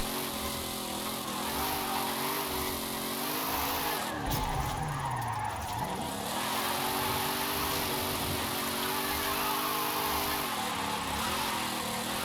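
A soft-suspension, high-torque Firebird drifts sideways in Forza Horizon 5, its engine droning steadily as the tires squeal in a sustained skid, loud and close throughout.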